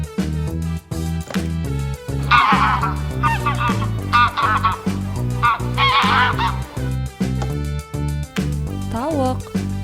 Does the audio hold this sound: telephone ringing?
no